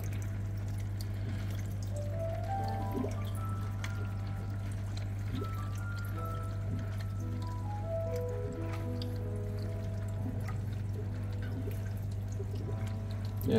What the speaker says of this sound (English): the fish seem to enjoy the water running back in. A little mini waterfall.